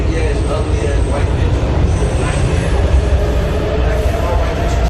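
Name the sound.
train noise on public transit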